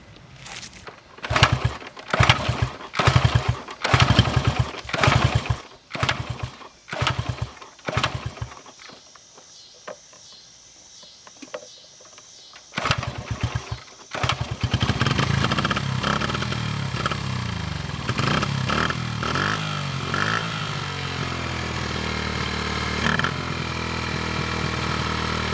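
A 48-year-old Honda XR75 motorcycle engine blips through a series of sharp revs, pauses, then settles into a steady, slightly uneven idle, close and loud with no talking.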